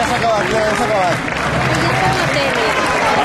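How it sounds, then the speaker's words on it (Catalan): Crowd applause in a town square for the Teià giants dance group at a giants dance gathering in Mataró. A steady wash of clapping plays under someone speaking over a loudspeaker. "fort aplaudiment per la gent de Teià, des del Maresme"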